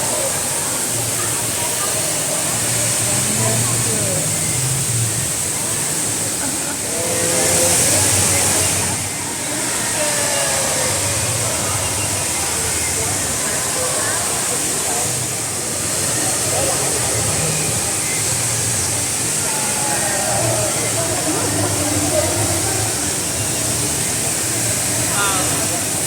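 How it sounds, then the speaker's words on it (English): Vortex indoor waterfall at Singapore Changi airport: a continuous broad rush of falling water, loud and steady for the whole stretch, with faint voices audible underneath. "Check this out, majestic waterfall."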